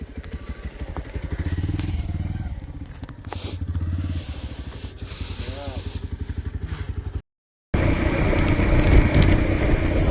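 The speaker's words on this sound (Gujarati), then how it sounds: "બાઈક આવી ગયું છે મિત્રો આપણને લેવા" A motorbike rumbles nearby with a steady engine putter and occasional clatter, cutting out briefly near the end before resuming, while people talk over it.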